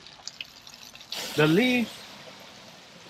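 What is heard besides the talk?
water flowing through a gutter strainer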